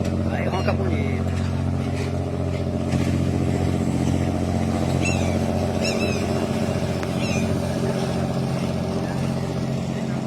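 A Scania 550HP truck engine roars steadily with a deep, constant drone, while people talk over it throughout.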